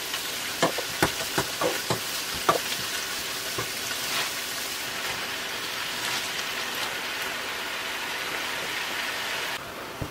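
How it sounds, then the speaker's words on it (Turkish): Spinach sautés over two fried onions in a pan, added little by little, giving a steady close sizzle with several sharp crackles and clatters early on, then a continuous frying hiss. "2 adet kavrulmuş soğanların üzerine ıspanakları azar azar ekleyerek sulandırmadan kavuralım"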